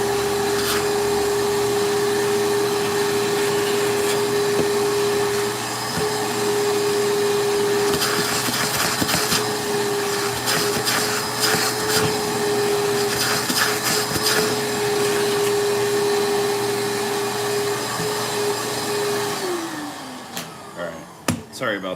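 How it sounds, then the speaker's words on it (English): Shop vacuum sucking up walnut wood chips after routing a pickup, a loud steady whine with a sustained tone and rattling debris, then winding down near the end. "Gonna vacuum that up real quick so it's gonna get loud."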